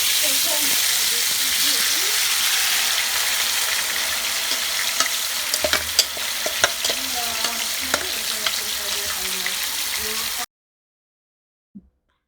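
Chicken tikka pieces sizzling in hot oil in a frying pan, a loud, close crackling hiss with scattered pops and stirring clatter that cuts off abruptly, followed by near silence and one faint knock.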